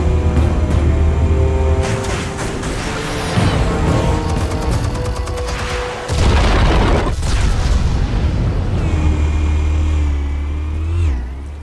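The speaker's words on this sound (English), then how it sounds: "Explosives armed. Fire when ready." Explosives go off in the Telltale Batman video game as heavy, loud booms and rumbling blasts recur over several seconds, layered with crashes, debris crackle and engine-like roars in a dense game mix without speech.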